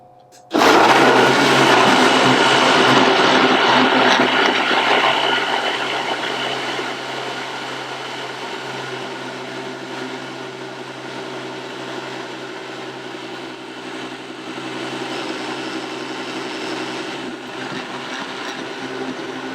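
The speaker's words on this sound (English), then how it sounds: "So we're going to blend this up now." Kitchen blender whirring as it blends a honey drink, starting abruptly loud and close, then settling into a steady, slightly lower drone that runs continuously for many seconds with no talk.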